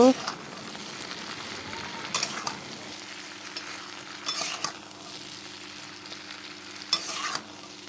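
Beans frying in a pan with turmeric and salt, a soft steady sizzle with a few brief bursts of stirring scrapes, fairly quiet with a low hum underneath.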